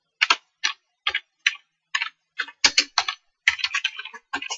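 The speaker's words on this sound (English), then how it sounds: "type the street name" Fingers typing on a computer keyboard in an office: a quick series of crisp, close key clicks in short irregular bursts with brief pauses, no voices.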